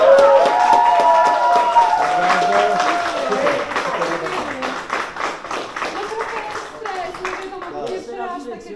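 Crowd clapping and applauding in a pub at an author's evening performance, loud at first with cheering, then thinning to scattered claps while people talk over it.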